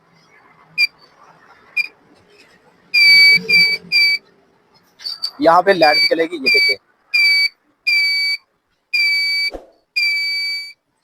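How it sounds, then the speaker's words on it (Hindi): The buzzer on a homemade power tester for checking sockets, fridge and washing-machine wiring sounds in a string of sharp, high-pitched electronic beeps, close and loud, with someone talking in between. "हम यहाँ पे बजर जो है ये वाला बटन है, हम इसे प्रेस करेंगे"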